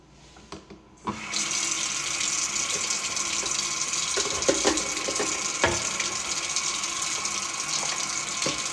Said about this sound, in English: I'm watering my orchid.